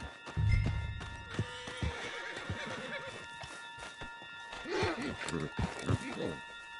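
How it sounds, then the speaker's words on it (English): A horse neighs and whinnies loudly near the start in Red Dead Redemption 2, followed by clip-clopping hooves and scattered game sounds, with voices talking throughout. "Put Strauss on the back of John's horse and let's get out of here"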